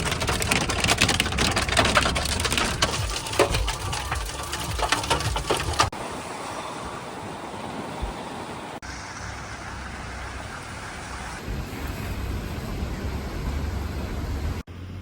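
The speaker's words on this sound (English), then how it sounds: "What's happening, Vahid? Hailing. Again." Hail patters and rattles loudly on a car in western Iran, a dense crackling rush that later drops to a softer, steadier hiss as the scene shifts.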